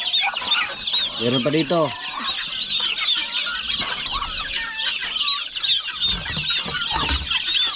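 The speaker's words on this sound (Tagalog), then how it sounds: "Yan, mga pato yan, may manok pa. Siso ng manok." Chickens cluck and chirp continuously with small ducklings among them on a farm, a dense close chorus of bird calls with brief talk mixed in.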